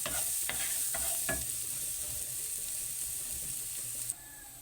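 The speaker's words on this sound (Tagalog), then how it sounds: "I-saute natin yung bawang at sibuyas." Garlic and onion sautéing in butter in a new pan give a close, steady sizzle, with a few quick scrapes and taps of a utensil stirring near the start and a soft knock at the end.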